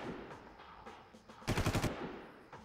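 Gunfire in the video game Far Cry: a quick burst of several rapid shots sounds in the middle, standing out over a low game background.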